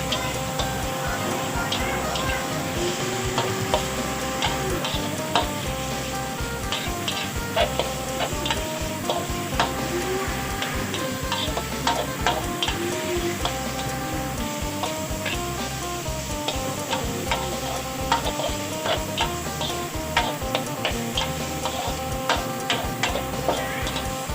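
Minced pork being stir-fried in a pan for Thai basil pork, a steady sizzle broken by rapid, repeated scraping and tapping of a utensil against the pan, close and busy throughout, with no talk.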